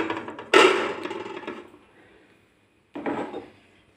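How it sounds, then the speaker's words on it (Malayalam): A dish is set down inside a preheated oven for baking chocolate cookies, giving a sharp metallic clatter followed by a fading rattle, then a second quieter knock and scrape a moment later. "അതിനകത്തേക്ക് ഒരു പാത്രം വെച്ച് കൊടുക്കണം."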